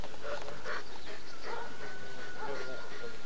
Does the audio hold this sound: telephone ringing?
no